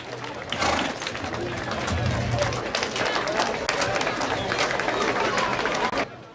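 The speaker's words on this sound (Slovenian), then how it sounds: "En aplavz za Pika Nogavička" An audience claps and cheers for a Pippi Longstocking performance, a dense, steady burst of applause and crowd noise that holds for several seconds before cutting off abruptly.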